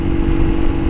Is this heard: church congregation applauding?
no